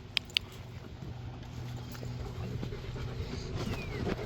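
Dog panting near a pond during a DIY floating skimmer build, soft rapid breathing heard at low level and fairly close, with a couple of sharp ticks early on and faint outdoor ambience.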